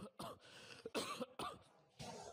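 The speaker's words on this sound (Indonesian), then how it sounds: "Mohon maaf Bapak batuk-batuk masih kurang sehat" A man who is unwell coughs repeatedly in a classroom during an electrical engineering lesson, a series of close, hoarse bursts spread over a couple of seconds.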